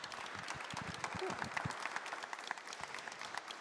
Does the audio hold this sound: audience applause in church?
yes